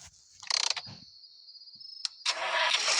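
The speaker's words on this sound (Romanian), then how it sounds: "Pornește motorul." A car engine cranks with a short whirring starter burst, then catches and settles into a steady running drone, heard close and alone with no talking.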